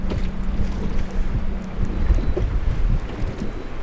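Steady wind rumbles and buffets against the microphone outdoors on a bass-fishing boat during a cold front, a constant low roar with water or boat noise underneath and no voices.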